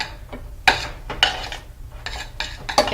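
A spoon stirring a stuffing-like mixture in a bowl, with several distinct scraping and clinking strokes at an irregular rhythm, close and moderately loud, and no talking.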